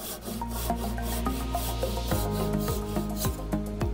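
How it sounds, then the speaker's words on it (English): A handsaw rasps through hard wood to finish a parting cut on a lathe, with steady back-and-forth strokes and regular scraping pulses close up, no voices. "I finish the parting with a handsaw."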